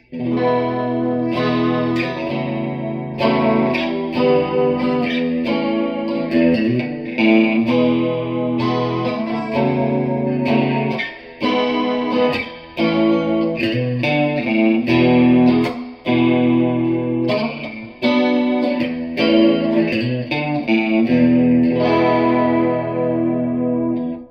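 Electric guitar with a shimmering, wavering chorus-like tremolo effect, playing sustained chords and notes continuously and loudly with no talking.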